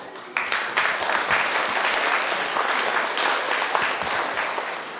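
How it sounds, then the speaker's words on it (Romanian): Audience at a traditional folk customs festival in Doftana, Romania, applauding steadily and fairly loudly for about five seconds, a dense unbroken wash of clapping with no talk over it. "Vă rog să-i aplaudați încă o dată."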